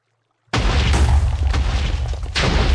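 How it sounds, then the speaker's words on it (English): TNT explodes in Minecraft after gliding down honey blocks, a sudden loud boom after a brief silence that rumbles on with a second burst near the end. "so we can make the TNT glide down some honey blocks and explode just at the right height"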